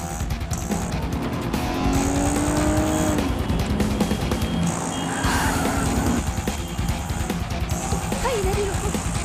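A car pulls away in a hurry in an action thriller chase scene, engine roaring and tires squealing continuously, loud and close, mixed with shouted voices and music.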